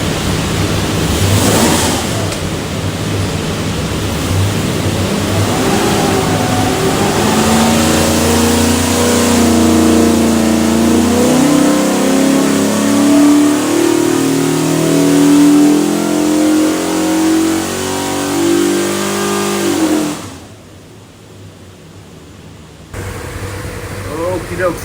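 A 347 stroker Ford V8 with Holley EFI in a '56 Crown Vic roars on a dyno, revving steadily upward in a long loud pull before cutting off sharply near the end, with voices briefly heard.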